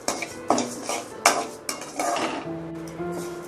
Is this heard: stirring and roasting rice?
yes